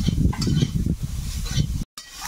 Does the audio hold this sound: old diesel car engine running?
no